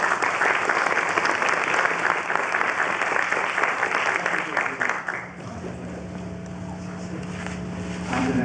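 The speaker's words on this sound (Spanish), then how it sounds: "recibámoslo con un aplauso" An audience at a lecture on decolonial art and aesthetics claps to welcome the speaker, a loud, full round of applause that fades after about five seconds into a quieter room hum.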